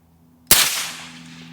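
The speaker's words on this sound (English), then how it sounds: "One suppressed 357 into the dirt" A single suppressed .357 round from a lever-action rifle fired into dirt gives one sharp close crack followed by a fading tail, alone over a faint steady background hum.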